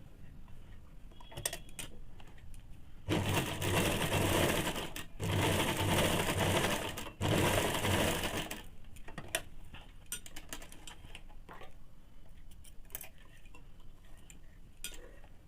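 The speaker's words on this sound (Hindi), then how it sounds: "अब पट्टी को बाहर तरफ निकाल के एक चाप सिलाई चला लेंगे।" A sewing machine stitches a strip onto ladies' pants in three loud, fast bursts of motor whirr and needle clatter, separated by short pauses, with quieter handling clicks before and after.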